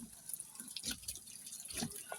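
Faint water trickling and dripping in a kitchen sink as hands are rinsed while preparing vegetables and jackfruit, with soft intermittent splashes.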